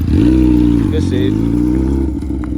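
A 600cc Honda CBR F4i sport motorcycle engine revs hard and loud close by, its droning pitch rising and dipping as the throttle is worked, with voices faintly mixed in.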